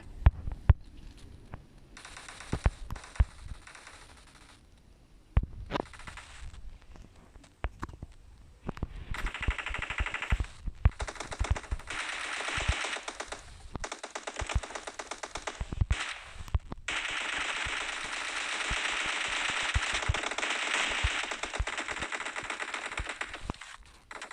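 Gunfire in PUBG Mobile: scattered sharp single shots early, then sustained rattling automatic fire with clustered bursts, moderately loud over a steady game background.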